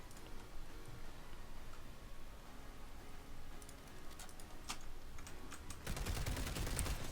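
NSX Tanto carbine fire in PlanetSide 2, with bursts of rapid, crackling shots that thicken into a dense, loud barrage toward the end over a busy battle background.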